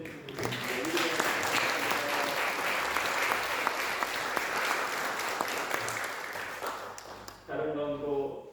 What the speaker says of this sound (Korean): 우리 한번 경례의 박수 한번 보내주시면 좋겠습니다